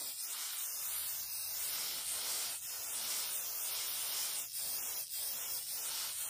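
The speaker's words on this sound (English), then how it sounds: "I take some silver metallic spray paint, and I'm just going to start spraying" Silver metallic spray paint hissing from an aerosol can onto old shoes, a steady broadband spray with brief pauses and bursts between passes, close and fairly loud, no talking.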